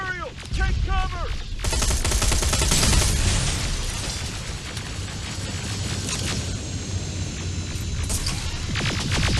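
Rapid gunfire from the video game Terminator: Resistance, sustained bursts of automatic shots and booms filling the clip loudly and continuously, with a voice speaking briefly at the start.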